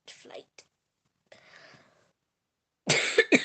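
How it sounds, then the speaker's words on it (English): A person during a casual gaming livestream coughs in short, breathy bursts separated by pauses, ending in a louder, harsher fit of coughing, close to the microphone. "this coughing has gotten so much worse"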